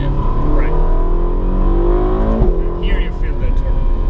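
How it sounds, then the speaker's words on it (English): Loud interior sound of a turbocharged Ferrari supercar engine revving through a downshift, a sustained harmonic drone that rises and then dips, with turbo whoosh and voices talking over it. "it spools that turbo up really nicely"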